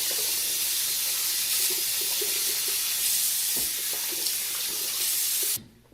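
A bathroom faucet pours lukewarm water while a face is rinsed clean, a steady close rushing splash that cuts off abruptly near the end.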